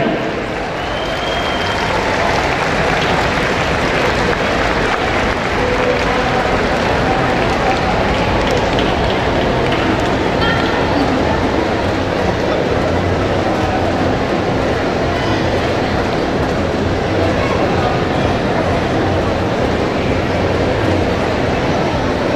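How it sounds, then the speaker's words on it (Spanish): Sustained, dense applause from a large crowd at a queen's coronation ceremony during the Feria de Zacapoaxtla, steady and loud for over twenty seconds, with voices mixed into the roar. "Esos aplausos que se escuchen para nuestra primera princesa, Laura"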